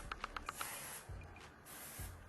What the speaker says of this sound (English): I'm taking whatever hairspray and I'm spraying it